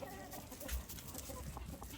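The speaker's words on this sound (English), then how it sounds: "Stop making a mess, you bad chicken." Chickens clucking in a farm animal sanctuary barn, soft repeated clucks and scratchy rustling in straw, fairly faint and close, with no talking.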